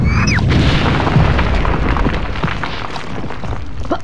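A Teddy Funken U-47 missile blasts in Conker's Bad Fur Day, a loud, deep rumbling explosion that opens with a short whistle and then rolls on with crackling debris, no speech over it.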